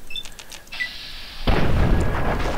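Gunfire in Fallout 3: a loud, booming shot erupts midway and sustains a broad rumbling tail to the end, preceded by quieter game ambience with faint high tones.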